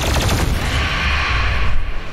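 Rapid gunfire in the video game Doom Eternal, a loud burst of quick repeated shots layered over heavy low booms, with no talk.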